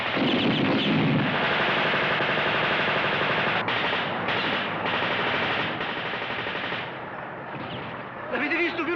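Sustained machine gun fire from a 1964 Italian war drama, a dense continuous rattle of rapid bursts with battle noise, loud and unbroken for the whole stretch, briefly easing before flaring again at the end.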